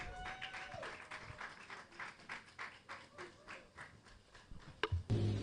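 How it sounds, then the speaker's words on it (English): Scattered applause and claps at a business mixer for young women, uneven and moderately loud, with voices mingling in the crowd and a few louder knocks near the end. "Please, a round of applause."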